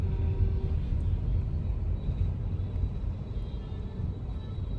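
Low rumble of heavy, crawling road traffic on the drive from Gurgaon to Delhi, engine drone and tire noise close by with faint higher tones drifting through, steady with no voices.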